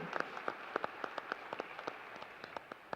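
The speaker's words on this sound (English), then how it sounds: "Give yourselves a round of applause for supporting this spelling bee." A crowd claps steadily, a dense patter of many hands with a few sharper claps standing out, sustained throughout without voices.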